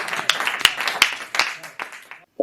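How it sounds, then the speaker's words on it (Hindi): Brief applause greets a poet at a Hindi comedy poetry gathering, a handful of sharp, close claps at an uneven pace that thin out and stop after a couple of seconds. "जोरदार तालियां बजाकर बाराबंकी से पधारे भाई अजय प्रधान को आमंत्रित करिए"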